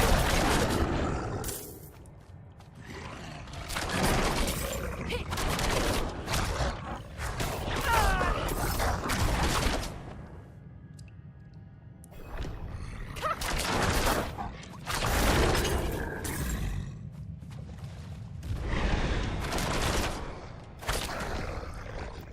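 A Rogue fires multi-shot and barrage attacks in Diablo 4, with repeated bursts of rapid arrow volleys and impacts in loud clusters separated by quieter gaps, amid game effects.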